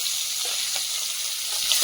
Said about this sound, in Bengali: ট্যাংরা মাছগুলো ভেজে নেবো